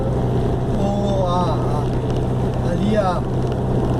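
Car engine running steadily after a downshift into third gear while vacuum readings are checked on the intake manifold, a continuous low drone with a faint tonal whine and a voice talking over it.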